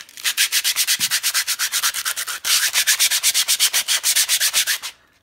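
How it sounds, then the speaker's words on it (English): Sandpaper rubbed briskly back and forth over a wooden board being prepared for mosaic work, giving steady rhythmic scratchy strokes, close and loud, with one brief pause midway. "So first you want to give the wood a good rubbing with the sandpaper."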